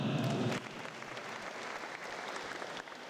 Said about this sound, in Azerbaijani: Onu da alqışlayaq.